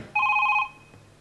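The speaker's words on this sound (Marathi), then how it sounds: "फोन आलेला आहे." A single short telephone ring on a Marathi comedy show stage, an electronic trill lasting about half a second, clear and close, then quiet.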